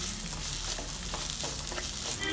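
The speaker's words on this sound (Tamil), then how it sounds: "இந்த வெங்காயம் நல்லா கோல்டன் ப்ரௌன் ஆகிற வரைக்கும் நல்லா ஃப்ரை பண்ணிக்கோங்க." Three medium-sized chopped onions fry in a pan for egg curry, giving a steady, even sizzle with faint stirring clicks, close and continuous with no talking.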